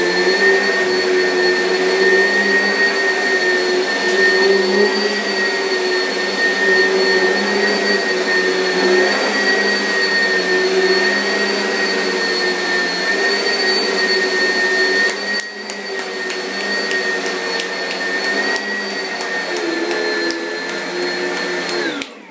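An Oreck Hypoallergenic Plus upright vacuum cleaner runs steadily and loudly, its constant motor whine holding throughout, with a brief dip in pitch and texture partway through as it moves over the floor; no one speaks.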